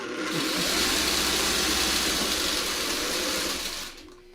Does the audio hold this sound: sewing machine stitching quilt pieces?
yes